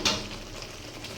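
Spices, onion and tomato sautéing in a pan for chicken kosha, opening with a sharp burst of sizzle as something is stirred in, then settling into a quieter crackling fry with faint stirring.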